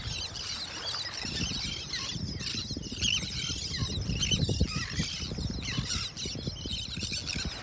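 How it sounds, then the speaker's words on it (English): On a morning beach in North Naples, Florida, likely terns call in busy overlapping squeals and chirps, fairly close, over a low rumble of wind or surf. "I love looking at these birds in the morning."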